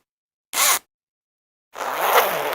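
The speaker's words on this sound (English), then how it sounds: "That's the sound of me packing her shit." Two zipper pulls while someone's belongings are packed: a short sharp zip, a pause, then a longer rougher zip close by, with no talking.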